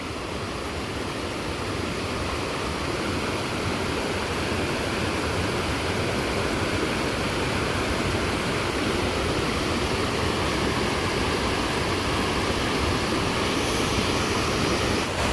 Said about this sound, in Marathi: इथे आता हा धबधबा आहे ना